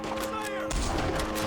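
Gunfire in Red Dead Redemption 2 erupts as a dense, loud burst of repeated shots, with a sharp crack near the middle and sustained rattling afterward over game ambience.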